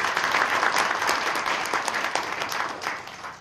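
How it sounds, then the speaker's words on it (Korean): A roomful of guests at a New Year prayer breakfast in a Suwon hotel applauds with steady, dense clapping that stays loud and even throughout. "이 시간에는 더불어민주당 경기도당 위원장님으로 선거하시는 김경엽 국회의원 오셔서 박수로 모시겠습니다."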